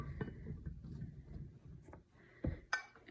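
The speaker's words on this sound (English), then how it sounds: "So all of the parsnips are just going into this Pyrex oven safe container." Raw parsnips drop into a glass Pyrex oven-safe dish, with a few sharp clinks near the end after a low, quiet stretch of handling noise.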